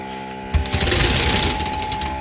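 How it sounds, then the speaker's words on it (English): A fire truck's automatic battery charger and air pressure maintainer runs with a steady electrical hum, then a rapid mechanical clattering chatter kicks in and continues loudly up close. "That is the automatic battery charger and air pressure"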